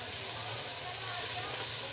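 Spices and bottle gourd frying in a pan give a steady, dense sizzle that stays even throughout, with a voice speaking softly beneath it.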